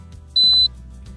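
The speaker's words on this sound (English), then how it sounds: "You can release the button when you hear a tone and see a blinking LED light." A Frigidaire appliance gives a single clear, steady electronic beep lasting about a third of a second after its Wi-Fi button is held, over a low background hum.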